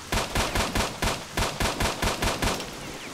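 Rapid bursts of gunfire in S.T.A.L.K.E.R. Shadow of Chernobyl, about a dozen loud, evenly spaced shots in a steady rhythm with no talking.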